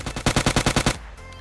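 A fast burst of about eight loud, evenly spaced automatic gunshots in a battle royale video game, fired near the buildings, then a sudden drop to quiet background with a couple of faint later clicks.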